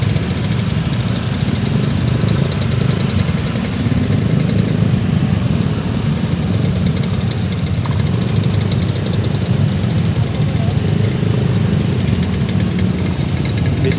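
Cars and motorbikes idle together in a traffic jam at Ciwandan ferry port as vehicles roll off a car ferry, a steady, loud low engine rumble and drone throughout with no talk.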